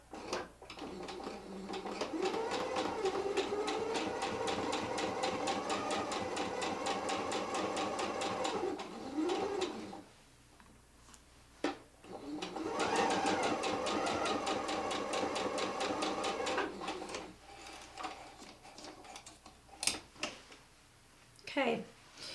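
A sewing machine stitches a quarter-inch quilt seam, its steady motor hum running in two long stretches with a quiet gap and a few soft clicks between them.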